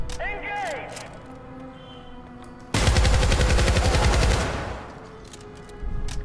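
A shotgun blasts once in the Syndicate video game, a loud broadband roar lasting over a second before fading, with faint game sounds around it and more noise at the end.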